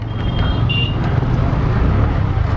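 Traffic on a busy city street, a loud steady roar of engines and road noise up close, with a brief thin high tone like a distant horn partway through.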